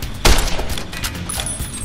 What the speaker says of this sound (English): I can get a sneak attack off with my varmint rifle